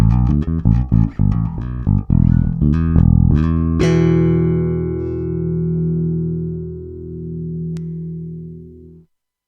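A Sire M2 electric guitar on the neck pickup in series mode, bridge pickup single coil: notes picked quickly one after another, then a final chord rings out and sustains for several seconds before cutting off.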